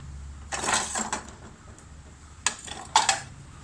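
Cups, plates and bowls clink and knock as they are handled, with a few clusters of crockery rattles and two sharper, brighter contacts, fairly close and otherwise quiet.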